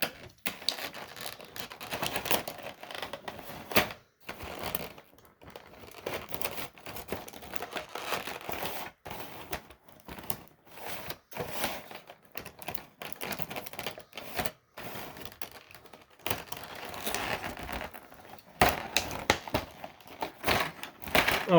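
Tape and packaging being pulled off a collectible figure box, with repeated crinkling, tearing and tapping sounds in irregular bursts throughout.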